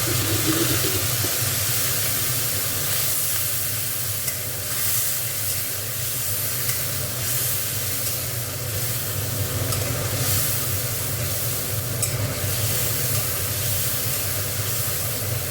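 Spice paste (masala) being stir-fried in a pan, a steady dense sizzle and hiss running throughout at close range with a low background hum, no voices.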